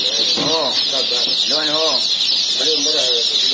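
Dense, constant high chirping from a crowd of chicks at a chick market, with people talking loudly over it.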